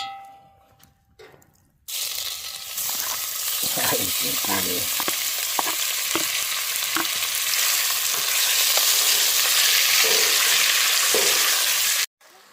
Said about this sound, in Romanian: Între timp am pus și cârnăciorii, lăsăm să se mai frigă